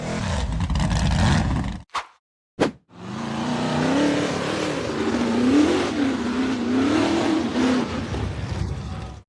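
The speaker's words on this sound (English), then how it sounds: "The buggy charged up the rocky dirt slope" An off-road buggy roars as it charges up a steep, rocky dirt slope, its engine loud and close, revving and straining, with a brief break before it builds again amid clattering and scraping.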